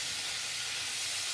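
Frittata ingredients hit a hot pan with a loud, steady sizzle and hiss that holds evenly for a moment, close up, with no talking.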